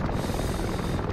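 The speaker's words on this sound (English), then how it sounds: "Seems the helicopters are deploying outwards now." Helicopters deploying in the war strategy game Men of War Assault Squad 2, a dense steady rotor roar that fills the whole brief moment at constant loudness.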